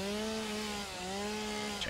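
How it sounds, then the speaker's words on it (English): Chainsaw in the Satisfactory video game, a steady buzzing motor drone that briefly dips in pitch midway before resuming, ending with a short clatter. "I love the mighty chainsaw."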